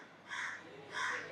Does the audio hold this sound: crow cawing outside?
yes